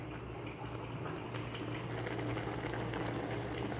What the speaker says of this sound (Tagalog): So, tatakpan natin ulit siya. Ayan, hanggang maluto na yung repolyo.